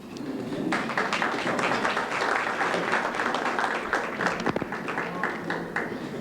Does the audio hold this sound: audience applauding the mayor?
yes